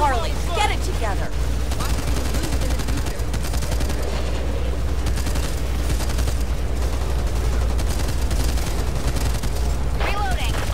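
Sustained gunfire from the zombie shooter Back 4 Blood, a dense continuous clatter of shots with game music and effects layered throughout, with voices talking at the start and end.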